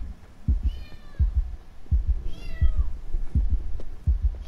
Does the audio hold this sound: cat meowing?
yes